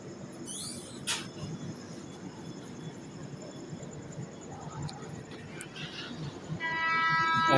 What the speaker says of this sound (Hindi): and this is coming CSMT Rajdhani